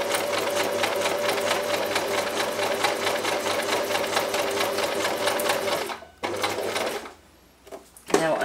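A sewing machine stitches through card in a fast, steady mechanical rattle, running continuously before pausing briefly near the end and restarting.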